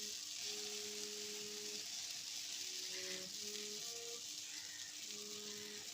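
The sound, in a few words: flatbread roasting on a pan with oil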